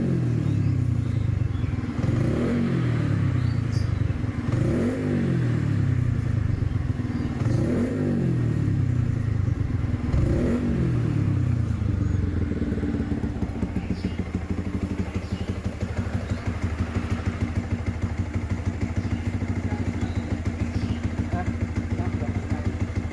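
Fuel-injected motorcycle engine with automatic idle control revs in four quick rising-and-falling bursts, then settles into a steady throbbing idle, loud and close.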